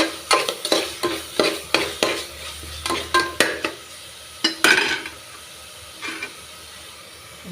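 Tomatoes sauté in oil in a pan, stirred in a quick rhythmic run of scraping strokes over a soft sizzle, then slowing to a few scattered stirs; close and clear, with no talking.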